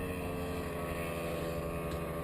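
A paramotor engine roars steadily at full throttle, a constant buzzing drone with wind rush, loud and close throughout.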